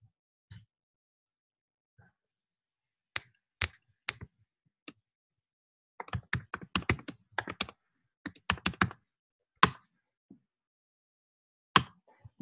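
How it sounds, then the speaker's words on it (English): Computer keyboard typing during a web coding session: scattered single key clicks at first, then a quick burst of clustered keystrokes and a few more isolated taps, close but soft in a quiet room without talking. "Boy, I'm doing lousy at typing today."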